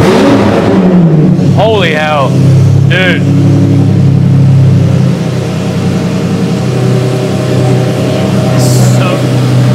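A V12 supercar engine fires up and idles with a deep steady rumble, then revs in a couple of sharp rising bursts, loud and close, while a man exclaims over it.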